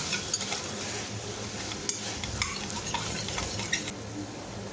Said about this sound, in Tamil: ஒவ்வொரு ஐட்டமும் ஒரு 2 நிமிஷம் வதக்கிட்டு அடுத்த ஐட்டம் ஆட் பண்ணிக்கோங்க.